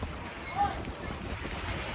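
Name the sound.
flood water waves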